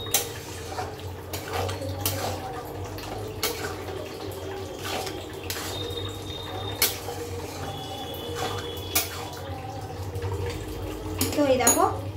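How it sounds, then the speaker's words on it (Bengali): A chicken dish in a pan being stirred with a utensil, with repeated scraping and tapping against the pan over a steady background hum, fairly close and continuous, ending in a brief burst of clatter. "একটু নেড়ে নিই।"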